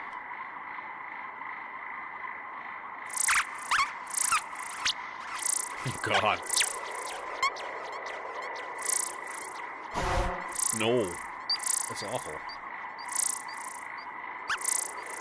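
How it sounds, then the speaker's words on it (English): Chirping bird calls repeated with an echoing delay effect from a Eurorack modular synth over a steady electronic tone, and someone speaks briefly partway through. "Let's delay the birds and see how dumb that sounds."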